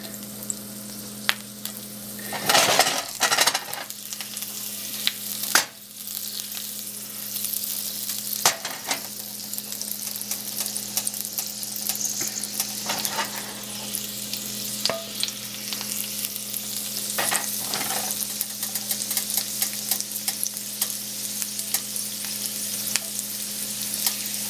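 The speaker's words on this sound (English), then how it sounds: "And cook our backstraps for about 3 to 4 minutes on each side." Venison backstraps searing in a pan with rosemary, a steady crackling sizzle throughout with occasional louder pops and stirring clatters, close and alone.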